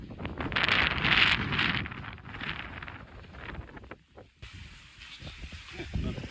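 Gusty wind blows outdoors beside a van in Roswell, New Mexico, a steady, rumbling buffet across the microphone with hissy swells that ease and pick up again.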